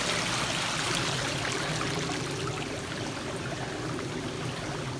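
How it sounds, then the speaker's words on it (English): A mountain stream along the Appalachian Trail rushes and burbles continuously, a broad steady wash of water close by with no voices over it. "First wonderful water source on the AT."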